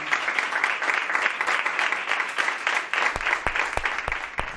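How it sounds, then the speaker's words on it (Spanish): Applause from a studio audience on a television program, sustained dense clapping with several loud, distinct individual claps standing out near the end. "Vamos a darle un aplauso a todos ellos"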